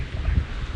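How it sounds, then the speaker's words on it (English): Strong gusts buffet the microphone outdoors at a zoo on a sunny day, a steady low rumbling roar that swells and dips without pause, with no voices. "It's still sunny, it's just really windy."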